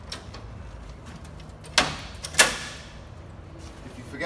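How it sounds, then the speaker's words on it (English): Door of an Xpanda MKII camper trailer being put up, giving two sharp knocks about half a second apart amid quiet handling sounds, with no talk. "put the door up."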